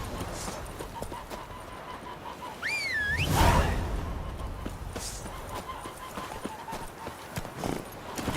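Roach, Geralt's horse in The Witcher 3, trots at a steady clip-clop rhythm under game ambience, with a brief rising whinny-like call and a whoosh partway through; moderately near and fairly quiet.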